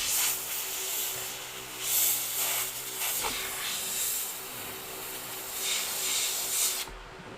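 An airbrush spraying paint on a Halloween piece gives a continuous close hiss that swells and eases in several bursts over a quiet room, with a brief soft knock partway through.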